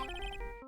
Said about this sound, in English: Oh, Mr. Nick, your phone is